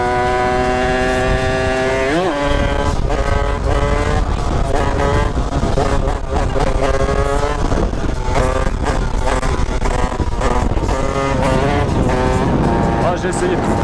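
A Derby 70cc moped with an Airsal engine revs loudly and up close, its pitch climbing and dropping repeatedly as it runs through the gears, with a voice speaking over it.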